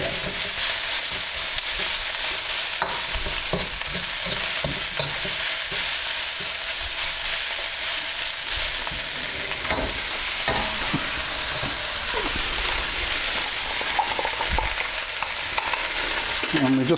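Bean sprouts stir-fried with Singapore noodles in a hot wok, a steady close sizzle and hiss with scraping, clattering stirring throughout, no talking.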